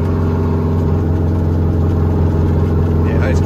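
A 1972 GMC Astro cabover truck with a Detroit diesel engine runs rough, a loud, steady, close rumbling idle with an uneven throb throughout.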